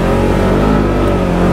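A 2022 Polaris General XP 1000 Trailhead Edition side-by-side engine drones loudly and steadily with a low, continuous rumble, no voices over it.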